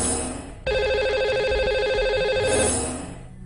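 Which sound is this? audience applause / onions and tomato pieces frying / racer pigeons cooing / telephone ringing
telephone ringing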